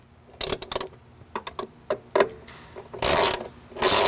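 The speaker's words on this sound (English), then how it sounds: "go ahead and ratchet them down to where they're snug" Torx 30 hinge bolts on a Jeep JKU Rubicon being tightened with a ratchet, giving irregular bursts of short clicking and rasping strokes, fairly close and moderately loud, with no talking.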